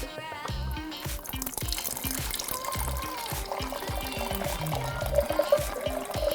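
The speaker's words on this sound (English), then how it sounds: "you pour some wine" Wine trickles as it is poured into a glass at a Traeger chicken dinner. The gurgling pour runs close and continuous for several seconds, with no talking.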